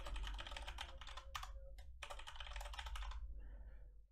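Password entered on a computer keyboard: rapid, close clicky keystrokes in quick bursts with a couple of brief pauses, fading out near the end, no talking.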